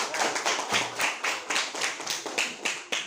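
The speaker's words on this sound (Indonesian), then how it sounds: "Ya, tepuk tangan dulu" A group of schoolchildren in a classroom claps in a steady, rhythmic pattern, sharp close hand strikes repeating evenly about every quarter second.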